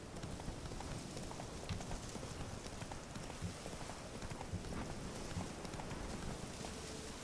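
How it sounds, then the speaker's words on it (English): Horse hooves clip-clop steadily in a wintry fantasy video game, a continuous rhythmic patter of footfalls over a dense bed of ambient game noise, with no voices over it. "Magical monster horse."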